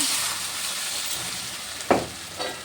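Cornflour slurry going into a sizzling pan of chili-style sauce and being stirred, a soft steady hiss with one sharp spoon scrape and a fainter second stroke near the end, close, no talk.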